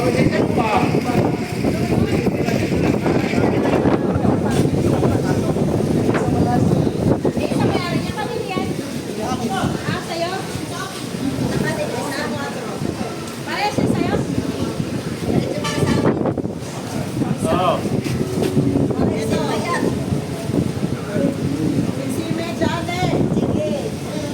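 Strong southwest monsoon wind (habagat) buffeting the microphone at the coast in Dinahican, Infanta, Quezon, a loud continuous rumbling roar that swells and dips, with people talking over it.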